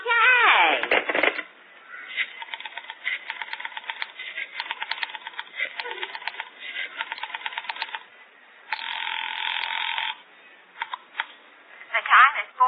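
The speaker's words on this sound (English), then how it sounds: "Dial Ulrich 8900." A rotary telephone dialed as a radio theatre sound effect, heard as bursts of rapid clicking and whirring spread across the clip, broken by short pauses, with voices speaking around it.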